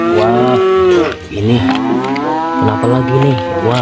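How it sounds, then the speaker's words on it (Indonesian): A cow gives long, loud, drawn-out moos close by, one after another with a brief break between calls, while someone briefly speaks over them. "ada suara sapi lagi nih teman-teman"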